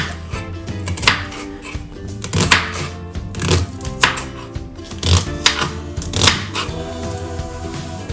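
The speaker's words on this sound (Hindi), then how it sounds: "चलिए हम प्याज को काट लेते हैं" Onion being finely chopped with a knife on a board: a loud, close run of quick knife strikes coming in short irregular bursts, with no talk.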